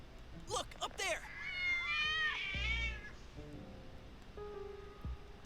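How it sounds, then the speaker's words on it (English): Cats meow in the video game Persona 4 Golden: a few short, bright meows near the start, then a longer wavering cry, all heard alongside game music and other sounds. "Why are you surrounded by cats, Teddie?"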